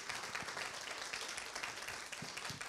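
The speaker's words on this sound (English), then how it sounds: "let's give him an applause" Faint applause from a church congregation during a service, a soft steady patter of many hands lasting a few seconds at low level.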